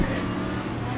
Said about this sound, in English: I wanted to hear the sounds of the other cars